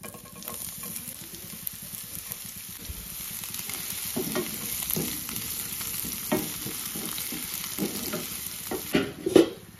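Cumin, dried chilli and onion frying in white cooking oil, giving a steady, close sizzle throughout with occasional stirring scrapes and clatters that grow louder toward the end.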